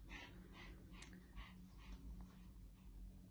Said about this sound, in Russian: Собаки разлаялись